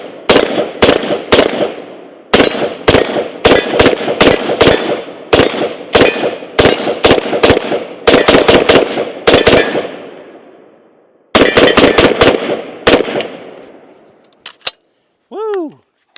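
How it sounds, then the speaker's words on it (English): A CMMG BR47 rifle firing outdoors, loud sharp shots in uneven strings with short gaps and echoing tails, a pause near the end, then a few final shots and a brief whoop from a man. "Let's go ahead and throw that safety off and shoot a little bit more."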